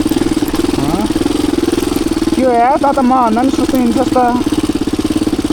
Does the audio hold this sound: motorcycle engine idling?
yes